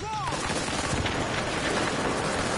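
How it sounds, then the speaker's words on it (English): Sustained automatic gunfire in The Division video game, a dense, loud, continuous volley of rapid shots filling the whole moment, with a brief voice-like sweep at the start. "Who's shooting me?"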